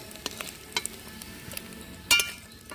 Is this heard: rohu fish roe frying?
yes